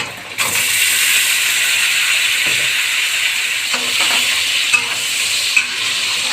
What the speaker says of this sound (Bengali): তো টমেটোটা দেওয়ার পরে হালকা এভাবে নেড়ে নেবেন যাতে সিদ্ধ হয় তাড়াতাড়ি।